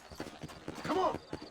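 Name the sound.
horse hooves in the video game Red Dead Redemption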